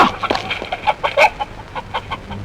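A hen, apparently stuffed inside a bag, gives a quick series of sharp, agitated clucks in uneven bursts, close and fairly loud, with no talking.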